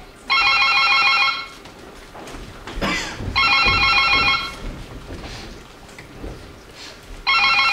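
A telephone rings in three loud, close bursts, one near the start, one mid-clip and one at the end, with quieter rustling and room noise between them.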